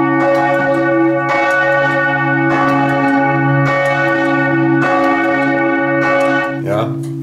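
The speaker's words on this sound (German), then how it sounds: "Ja, die Glocke hat recht grosse Massen und man tut sie mit Hilfe des Motors abbremsen." Large church bell in the tower at Muri swinging and striking in a steady, even rhythm, loud and close, with a long humming resonance between strokes; strikes begin to falter near the end as the motor brakes the bell.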